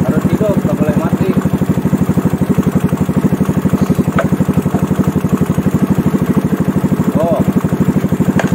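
A Yamaha Mio Smile scooter engine fitted with an N-Max regulator idles steadily with its battery disconnected, producing a close, even, rapid putter that runs throughout.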